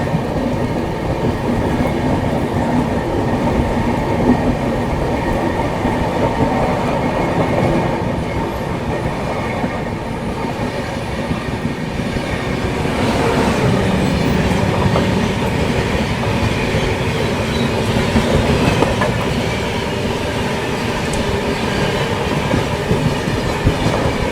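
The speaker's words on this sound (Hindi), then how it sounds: "जस्ट अभी देखो क्रॉसिंग होने वाली है कन्याकुमारी पुणे एक्सप्रेस के साथ। हमें लग रहा आ भी गई है सामने से।" Heard from aboard the Chennai Trivandrum AC Express as it crosses the Kanyakumari Pune Express, a continuous loud rumble of train wheels on track with steady clickety-clack and faint squeals, no voices.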